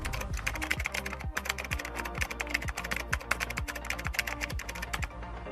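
Fast typing on a computer keyboard, close and clear, with a dense, even run of key clicks and occasional heavier keystrokes throughout, and no talk.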